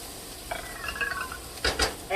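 Onions go into a hot pan for pumpkin chicken soup, giving a soft, close sizzle with light stirring scrapes and two sharper utensil knocks near the end.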